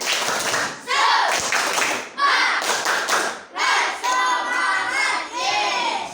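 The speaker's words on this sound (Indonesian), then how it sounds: "Tepuk semangat." A sixth-grade class performs the rhythmic 'tepuk semangat' spirit clap, bursts of group clapping and chanting voices in short, repeated phrases, loud and close in a classroom.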